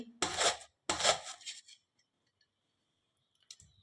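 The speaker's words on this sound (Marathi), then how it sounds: "अशा पद्धतीने आपल्याला या किसणीने ही कैरी किसून घ्यायची आहे" Raw green mango rubbed against a thick kitchen grater, two close rasping strokes in quick succession, then quiet with a small scrape at the end.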